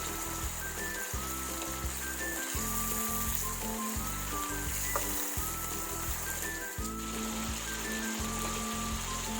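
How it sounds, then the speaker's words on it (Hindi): Mutton sizzling in a pot while being browned for degi aloo gosht, with occasional splashes of water, a steady close crackling hiss running throughout without pause. "मैं 5 मिनट तक गोश्त को भून लूँगी"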